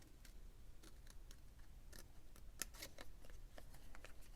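Small scissors snipping out a tiny paper piece for a handmade winter card, faint close crisp snips in an irregular series with no talk.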